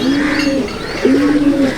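A white-faced Madrasi pigeon in a home loft coos up close, two loud, low, rolling calls with a short pause between them.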